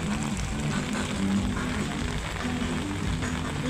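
Heavy rain pours steadily in a city street in the Philippines, a dense continuous wash of noise with a low rumble underneath and no voices.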